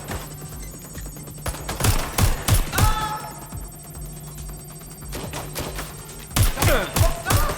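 Gunfire in the video game Watch Dogs Legion: several bursts of sharp shots in quick clusters over a steady tone and faint background, with a loud final volley near the end.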